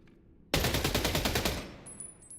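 A rapid burst of automatic gunfire in the video game Splitgate 2, roughly a second of loud, evenly spaced shots that stop abruptly, followed by faint high electronic beeps.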